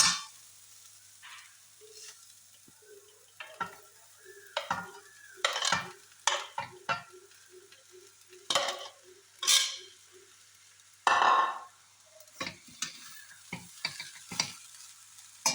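Cooked rice tossed with cashews in a pan over a low gas flame for masala chitranna, heard as sparse, quiet scraping strokes of a spoon at irregular intervals against near silence, with a faint soft hiss between.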